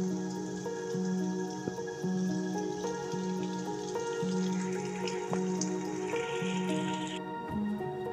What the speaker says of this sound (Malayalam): അപ്പോൾ രാവിലെ തന്നെ ഒരു 9 മണിയായപ്പോൾ തന്നെ നല്ല മഴയായിരുന്നു.